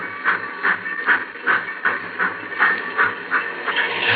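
A steam locomotive pulls away in a 1952 radio drama sound effect, its rhythmic chuffs puffing in even, steady beats over a continuous hiss, loud and close.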